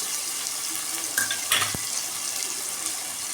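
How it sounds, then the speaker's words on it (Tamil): Carrots, beans and green peas sauté in hot oil with a steady soft sizzle, broken by a few stirring scrapes and one sharp clink near the middle. "இதெல்லாம் நல்லா எண்ணெயிலே கொஞ்சம் வதங்கட்டும்."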